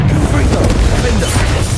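Confringo blasting curse detonating in Hogwarts Legacy, a dense, loud burst of booming impact with low rumble filling the whole short moment amid busy duel noise.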